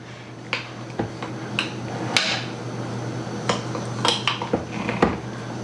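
Sauerkraut cabbage is pressed down in a jar, giving sharp, irregular clinks and taps of a utensil against glass, close and distinct over a quiet background hum, with no voices.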